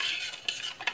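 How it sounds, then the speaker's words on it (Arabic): A spoon stirs an instant coffee mixture in a pot, giving a brief soft swishing scrape with two light metallic clinks, close and moderately quiet, with no speech. "صافي غادي نخلطوهم ونديروهم يطبخوا شويه"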